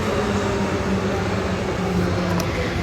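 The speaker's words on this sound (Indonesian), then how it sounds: "Nah, ada kereta limpas." A car passes by with a loud, steady, broadband rumble and a low hum that hold evenly through the short stretch, with no voices over it.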